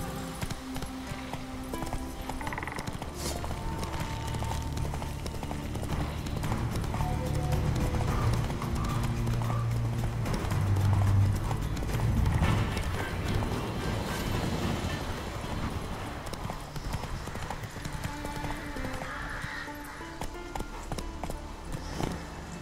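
Video-game horse hooves from The Witcher 3 beat in a steady rapid clip-clop under continuous game music and ambience, with a brief whinny.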